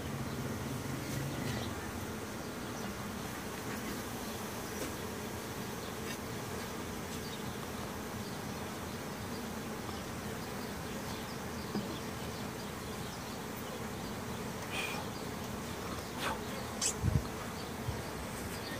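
Honeybees swarm around an open backyard hive, giving a steady, dense, low buzz throughout. Individual insects occasionally zip close by.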